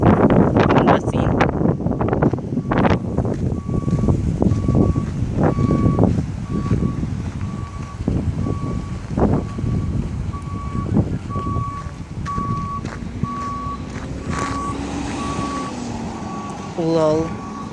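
Truck at a gold mine site backing up, a steady series of regular high beeps over wind buffeting the microphone and rumbling engine noise, with a closer vehicle rumble near the end.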